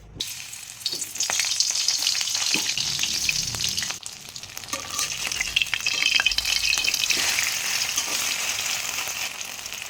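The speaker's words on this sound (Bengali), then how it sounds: "কড়াইয়ের মাঝে যে একটু তেল আছিল ওইটার মাঝে আবার তেল দিয়ে নিলাম ফুলকপি বড়া করার লাগে" Cauliflower fritters frying in oil in a wok give a loud, continuous close-up sizzle, with brief scraping and stirring clatter scattered through the crackle.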